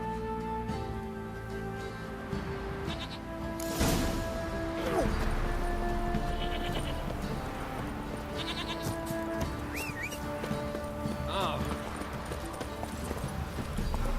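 Roach, Geralt's horse in the video game The Witcher 3: Wild Hunt, moves with a steady clip-clop of hooves that runs throughout under sustained musical tones, with no talking.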